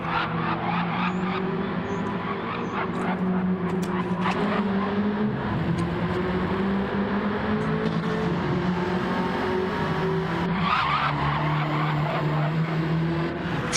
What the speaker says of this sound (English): Drifting that car.